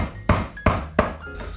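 Three sharp, dull taps of a hammer's thin end pressing cork into a shoe's insole during shoemaking, evenly spaced and close up, followed by quiet handling noise.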